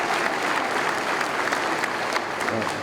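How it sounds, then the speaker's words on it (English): At a high school athletic awards ceremony for the baseball team's seniors, the audience applauds in a steady, dense wash of clapping from a sizable crowd, even and sustained throughout. "So a round of applause for these guys."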